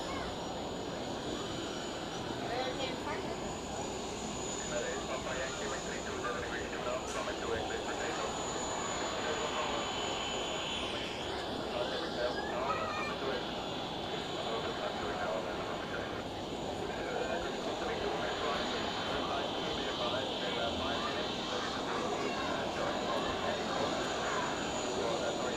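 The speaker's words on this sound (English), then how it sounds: "we have the Swiss A330 taxiing into the" A Swiss Airbus A330 taxis at Zurich Airport at rush hour, a steady, moderately distant jet engine rumble and whine that goes on throughout under people talking.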